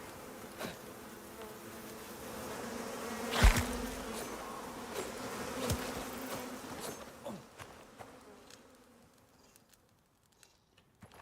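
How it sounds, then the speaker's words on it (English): Bees swarm in the survival game Icarus, a steady close insect buzz filling the air with a few sharper thumps and swells, thinning out toward the end. "Bees never used to be that fucking bad."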